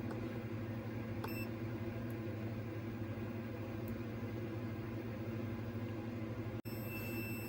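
A steady low hum runs throughout, then a sharp click and a continuous high electronic beep from a multimeter continuity test begins near the end, while repairing an Xbox 360 S.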